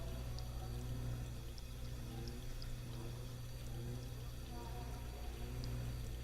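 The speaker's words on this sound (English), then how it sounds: "Guess I never did fix that faucet" Leaking faucet in the game The Park: water runs in a thin, continuous pouring hiss, faint and steady throughout under a low background hum.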